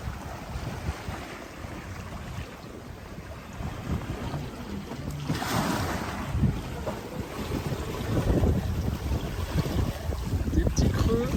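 Steady 15-knot wind buffets the microphone over the rush of water against a moving sailboat's hull in short, choppy waves off Turkey, swelling gradually louder toward the end.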